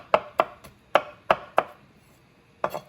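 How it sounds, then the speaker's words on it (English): Fresh garden garlic chopped with a knife on a board for homemade spaghetti sauce: five quick, sharp, close knocks in an even rhythm, a short pause, then two more cuts, with no talking. "we'll get the garlic. Fresh garlic."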